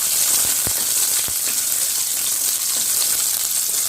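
Cashews and raisins frying in a pan for moong dal and sago payasam give a loud, steady, dense sizzle throughout, with a few sharp crackles early on and no talking.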